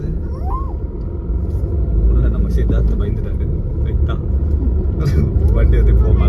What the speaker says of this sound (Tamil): வண்டி வந்து இப்போ மலை ஏறி போயிட்டு இருக்கு